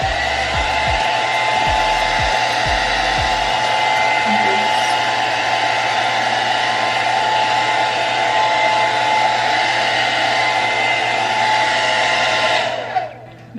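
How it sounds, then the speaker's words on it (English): A blow dryer runs on hair secured under a scarf while a long braided ponytail is styled, giving a loud, steady whooshing whir with a few low knocks early on, then cutting off at the end. "and then just take your blow dryer."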